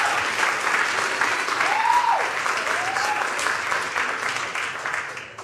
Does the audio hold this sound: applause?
yes